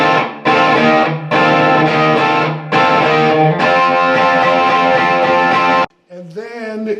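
A distorted electric guitar plays a riff as loud, sustained chords in repeated bursts with short gaps between them, then stops abruptly, followed by a brief softer tail.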